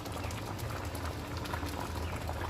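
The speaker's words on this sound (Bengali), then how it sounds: "দশ মিনিট মতো ফুটে এই পর্যায়ে এসছে।" Homemade tomato sauce, made without onion or garlic, boils in a pot with a dense, steady bubbling and popping, close and continuous throughout.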